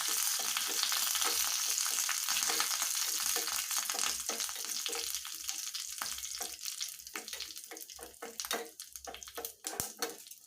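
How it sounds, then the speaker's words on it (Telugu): Curry leaves fry in a pan of hot oil for a rasam tempering, making a dense, continuous sizzle that thins out toward the end into sharper, scattered crackles and pops. "కరివేపాకు బాగా డ్రై అయ్యేంత వరకు వేపాలండి"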